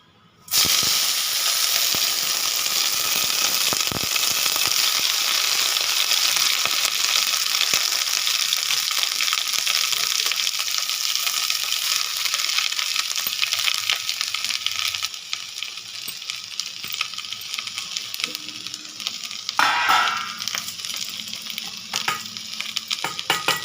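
Moringa leaves fry in oil in a pan with a loud, steady sizzle that eases after about fifteen seconds, with occasional stirring clinks and no speech.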